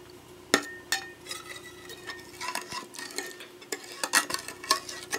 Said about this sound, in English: And now you just mix. You want to be sure to mix it really good.